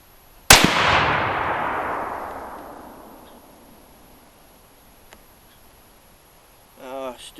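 A single loud Remington 700 rifle shot firing a .308 Winchester handload with Varget powder and 168-grain Hornady bullets, a sharp close crack followed by a long rolling echo that fades over several seconds outdoors.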